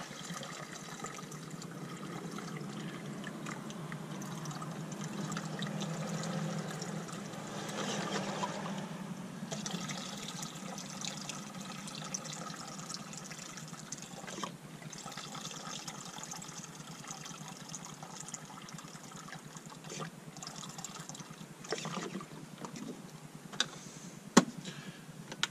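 Non-tap water is poured for lemon balm tea, a soft continuous trickling stream with faint ticking and small clinks near the end, close and alone without talk.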